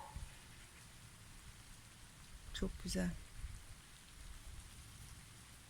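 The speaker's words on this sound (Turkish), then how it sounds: "Yağmur sesini duyuyorsunuzdur belki." Steady rain falls outdoors in autumn, a soft continuous hiss of drops on surfaces, with a brief loud rustle and a few quiet spoken words midway.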